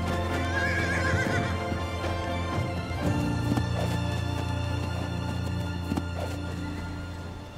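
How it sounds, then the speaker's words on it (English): Horses on a farm whinny loudly and close by, with a long neigh near the start and further calls over a dense rumble of movement and hooves, with no talking. "getting reacquainted with the other horses"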